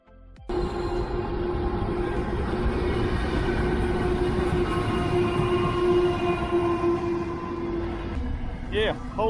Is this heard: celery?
no